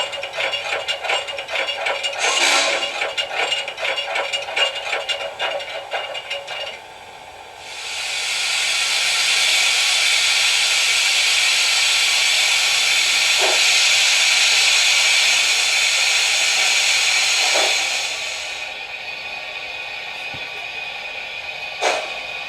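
A steady, loud hiss of steam blow-off from an HO-scale Fox Valley Models Norfolk & Western Class J 611 locomotive sound system, rising abruptly and holding for about ten seconds before cutting back to quieter running sounds.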